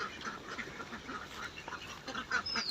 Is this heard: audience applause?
no